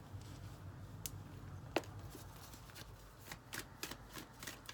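Tarot cards being handled, shuffled and drawn from a deck during a reading, a quiet steady shuffling rustle with several short, sharp card snaps and flicks, the loudest near the middle and more in quick succession toward the end.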